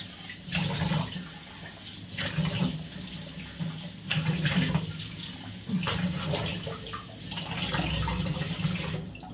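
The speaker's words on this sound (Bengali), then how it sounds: "আমি মুখটা এবার ফাইনাল ভালো করে ধুয়ে নিই।" Tap water runs steadily into a sink during face washing at home, with small splashes and shifts as hands move through the stream, close and moderately loud with no talking.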